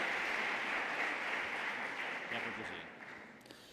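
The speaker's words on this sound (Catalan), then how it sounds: "Endavant, un aplaudiment, sisplau." Audience applause at an award ceremony, a broad wash of clapping that holds steady and then gradually fades toward the end.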